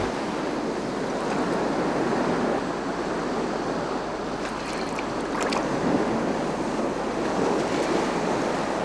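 Ocean waves break on a shore at night during a nocturnal mussel and crab gathering, a loud continuous roaring wash mixed with wind noise on the microphone, with no voices.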